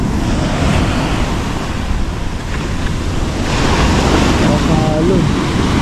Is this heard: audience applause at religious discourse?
no